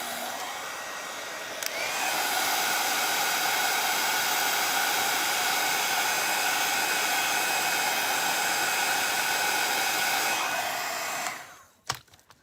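A heat gun blasts hot air onto a wooden Easter egg craft piece made from a craft-store wood blank with WoodUBend scraps, a loud steady roar running for about ten seconds before cutting off, with a faint click at the end.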